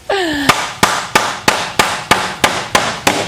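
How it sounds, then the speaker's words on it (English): A hammer strikes a scrap piece of lumber set against a wall stud to drive wood into place while installing exterior French doors, giving eight sharp, loud, evenly spaced thuds, each followed by a short ring. A brief whistling tone comes just before the first blow. "take a scrap piece of lumber, all right, and then just set that right next to it. And then you just can kind of whack away."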